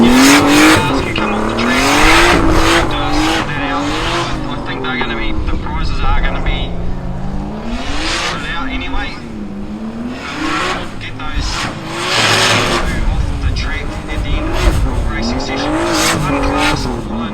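Nissan GTR cars racing around a track at a GTR festival in New Zealand, engines revving up and down through gear changes with tyre squeal, loud and continuous, with voices talking over it.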